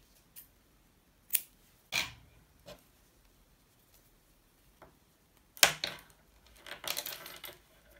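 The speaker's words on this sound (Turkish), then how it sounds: "Lacivert ipimden burayı dikecek kadar ip ayırıp ipi kesiyorum." Scissors snip navy blue yarn during a hand-sewing task, a few crisp isolated cuts spread out, close and quiet, ending with a brief burst of rustling handling.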